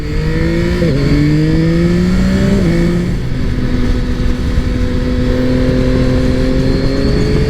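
A Yamaha XSR900GP motorcycle on a ride gives loud engine drone with clear pitch steps as it shifts gears twice early on. It then settles into a steady, sustained tone under wind rush.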